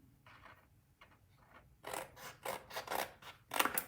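Scissors snip through paper while a shadow box treat holder for a Hershey bar is being made, a quiet rasp early on followed by louder, rhythmic close cuts in quick succession.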